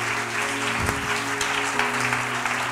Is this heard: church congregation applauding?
yes